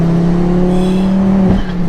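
Turbocharged E90 BMW M3 tuned to over 1000 hp pulling hard under acceleration, a loud, steady engine drone with strong harmonics held throughout, dipping briefly near the end as if shifting.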